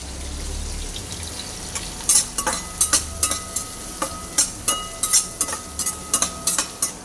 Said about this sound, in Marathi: कांदा भाजत आहे